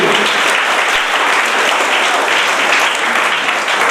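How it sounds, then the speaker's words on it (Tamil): Loud, steady audience clapping fills the whole stretch at a Tamil New Year debate-stage event, dense and continuous with no voices standing out. "சபாஷ் கைதட்டுங்க"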